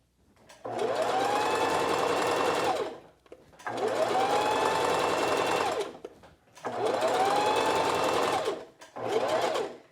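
A home sewing machine stitches a seam on knit pants in three long whirring runs and a short final burst, loud and close, with brief pauses between runs and no talking.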